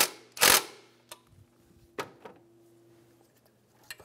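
Ratchet clicks tighten a nut on the alternator cable of a 2013-2017 Honda Accord, a few short metallic snaps and ticks spaced apart in a quiet garage, close and fairly soft.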